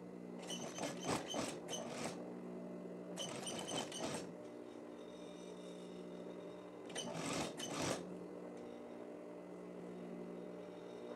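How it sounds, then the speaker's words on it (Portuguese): A sewing machine runs in three short bursts of rapid stitching along a plaid shirt collar, close and fairly quiet, with pauses of low hum between them. "vamos fazer uma segunda costura por cima do colarinho, aqui, ó, a fim de fechar a gola"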